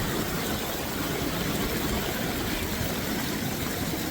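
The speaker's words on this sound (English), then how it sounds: "don't know if you can hear me or not over the waterfall." A waterfall in Titcomb Basin in the Wind River Range roars as a dense, steady rush of white noise. It is loud and continuous from start to finish.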